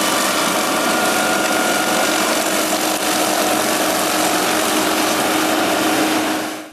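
Eterra Raptor boom arm mower engine running steadily at a constant loud level, a continuous engine drone with no talk, cutting off at the end.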